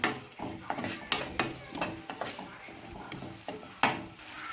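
Garlic paste and ingredients for a fish curry frying in a pan while being stirred, with repeated scraping knocks of a utensil over a steady sizzle.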